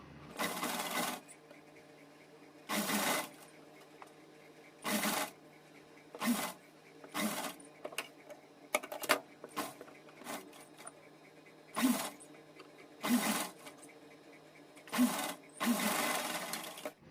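A sewing machine stitches lace onto a cotton dress in short repeated runs, each a second or two long and separated by pauses, close and moderately loud.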